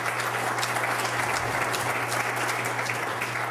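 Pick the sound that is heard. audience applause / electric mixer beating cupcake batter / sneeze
audience applause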